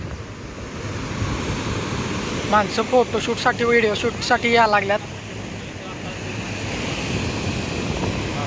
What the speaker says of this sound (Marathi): एवढा जोरात आवाज आहे तुम्हाला कॅमेऱ्यात येत नसेल एवढा व्यवस्थित खरं असा समोरून खूप आवाज आहे पाण्याचा